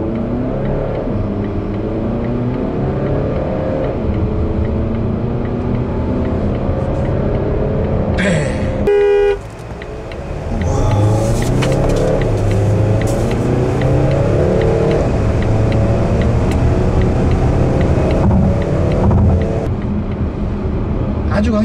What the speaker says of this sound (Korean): 급가속을 한번 해보도록 하겠습니다